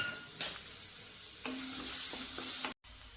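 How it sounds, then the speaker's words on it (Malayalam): Steady sizzle of onions and chilies frying in a pan, with a few soft scraping stirs and a brief cutoff near the end. "പിന്നെ ഈ പച്ചമുളക് ഇട്ടിട്ട് ഒന്ന് വഴറ്റിയെടുക്കട്ടെ"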